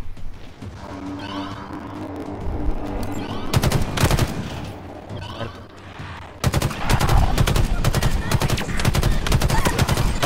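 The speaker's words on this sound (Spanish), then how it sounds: "Papi, la mejor arma es esta, la de tres tiros." Three-shot burst rifle fire in the video game Halo Infinite during a Firefight match, dense bursts of rapid gunfire in two long stretches, loud and close, amid other game sounds.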